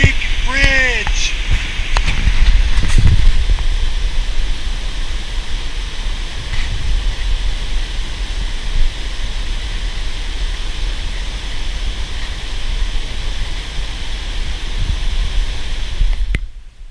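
Rushing creek water at Fish Creek Bridge makes a loud, steady broadband roar that runs the whole way through, with a shouted voice and a few knocks near the start.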